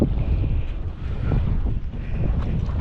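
Strong wind roars and buffets the microphone, with heavy sea churning underneath in a continuous, loud rush.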